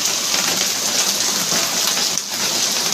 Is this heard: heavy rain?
yes